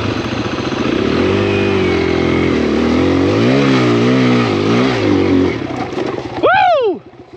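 A KLX 140RF four-stroke dirt bike engine revving hard on a ride, loud and close, rising and falling in pitch through several throttle pulls before a sharp final rev and cutoff, with a brief shout near the end.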